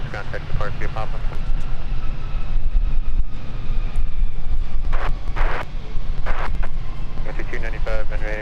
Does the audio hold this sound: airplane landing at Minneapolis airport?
yes